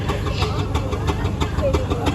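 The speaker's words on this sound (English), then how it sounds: "That was 5-ton tractor coming in here now." Five-ton steam tractor driving into the ring at a Bedfordshire steam rally, a steady chuffing engine beat close by with a rhythmic pulse throughout, under the murmur of a crowd.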